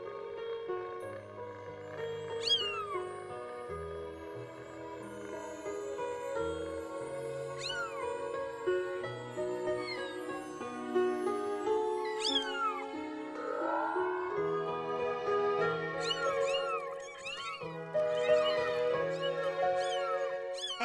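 Kittens in the animated film The Brave Little Toaster to the Rescue (1997) give high, rising meows every few seconds over a steady orchestral music backing, with more chirping cries toward the end.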